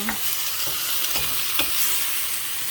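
Mixed vegetables, parboiled first, sautéed in a pan with a loud continuous sizzle and a few soft stirring scrapes, close and steady with no voices.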